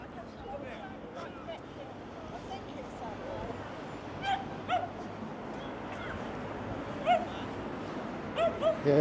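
Dogs on a beach at Weymouth, Dorset, giving several short yips and barks spread through the clip, faint against a steady wash of outdoor ambience and distant chatter.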